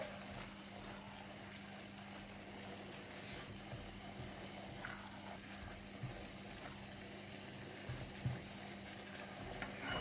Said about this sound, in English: Stir until well combined.